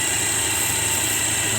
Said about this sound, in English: When she's idling, if you spray some in the throttle body, it dies a little bit.